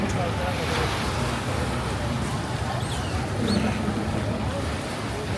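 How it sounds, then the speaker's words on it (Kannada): A speed boat runs out on the sea, its steady, loud rush of engine, water and wind noise filling the whole stretch, with no one speaking. "ಇದೇ ಸ್ಪೀಡ್ ಬೋಟ್."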